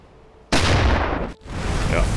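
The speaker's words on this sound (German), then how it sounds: "Dann hat der Zaunkönig sie von unten zerlegt." In a submarine video game, a Zaunkönig torpedo strikes a corvette with a sudden loud blast that cuts out briefly and then resumes as a sustained roaring rumble.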